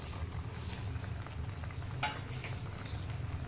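Peeled raw cashews and masala sizzle in a pan while a spoon stirs them, giving a low, steady frying hiss with a few soft scraping strokes. It is quiet and close, with no talking.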